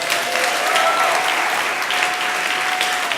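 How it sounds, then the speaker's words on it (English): Audience applause fills the room in a steady, dense wash of clapping that runs unbroken and fairly loud throughout, with no voices rising above it. "Give yourselves a round of applause."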